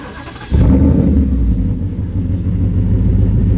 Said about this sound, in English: I'm gonna go ahead and start it